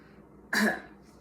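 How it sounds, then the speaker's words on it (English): A single short cough on request, close and sharp, in an otherwise quiet room during a bedside swallow evaluation. "And lastly, I'm gonna have you cough."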